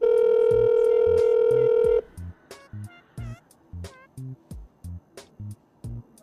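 A telephone dial tone holds steadily for about two seconds, then cuts to a quick run of evenly spaced touch-tone dialing beeps placing a call, clear and close with no talking.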